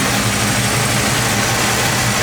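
A 1980 Chevy Caprice engine idling steadily, a loud, even, continuous rumble close by with no pauses and no voices.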